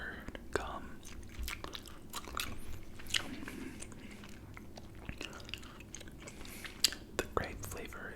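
Mint gum is chewed close to the microphone with soft, wet smacks and small clicks in an irregular rhythm, under quiet whispered talk.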